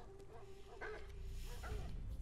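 A dog whimpers and yips in the video game Beyond Two Souls, with a couple of short, faint, high whines over a low rumbling game background.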